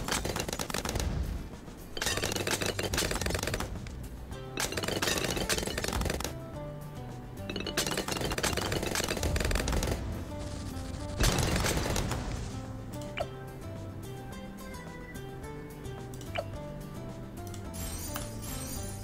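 A full auto rifle in Bloons TD 6 fires rapid clattering bursts layered with metallic clinks and game music, the volleys recurring in loud stretches before easing to lighter pings.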